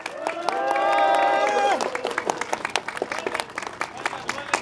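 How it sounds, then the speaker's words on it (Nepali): A crowd applauds at a golf tournament prize ceremony in Pokhara. A sustained tonal sound opens the moment, then scattered clapping rises and continues as uneven bursts of many hands, moderately close. "जोरदार तालीका साथ उहाँलाई स्वागत गरौँ।"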